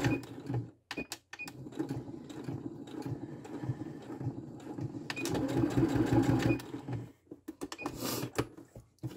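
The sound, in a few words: sewing machine stitching a seam with a backstitch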